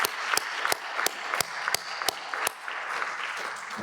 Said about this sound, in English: a final round of applause for Leon